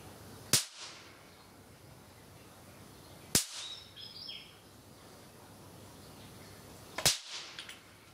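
A charged power-factor-correction capacitor from a ZVS circuit is shorted out on a safety mat, giving three sharp, loud cracking bangs spaced a few seconds apart over a quiet, hissy room.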